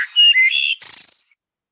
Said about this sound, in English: This is a wood thrush. So we'll play it here first.